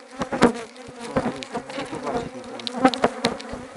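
Close, busy buzzing of agitated honey bees at an apiary, with wingbeats swelling and fading around the microphone in irregular bursts.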